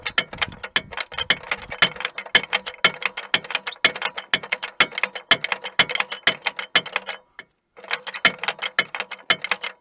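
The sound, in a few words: ratchet removing bracket bolts on 2006 Montana minivan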